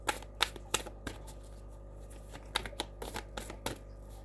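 Tarot cards are shuffled in quick irregular bursts of crisp riffling and tapping, close and fairly quiet over a low steady background hum.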